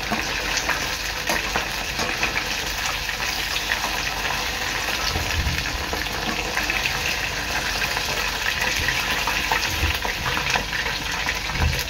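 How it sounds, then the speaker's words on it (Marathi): Prawns frying in a pan of hot oil for prawn chilli, giving a steady, loud, dense sizzle that runs unbroken throughout with no talking. "या प्रकारे मी बाकीचा कोलंबा सुद्धा तळून घेणार आहे।"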